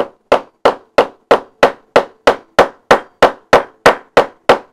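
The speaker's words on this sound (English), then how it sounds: "And then I get my hammer." Hammer striking a die to set a turn lock into a bag, delivering about fourteen sharp, evenly spaced blows in a steady rhythm, close and loud with no talk.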